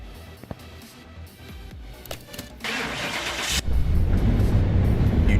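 A car engine in Car Mechanic Simulator 2021 cranks and catches on a dyno, then rises into a loud, steady rev that swells to full roar by the end.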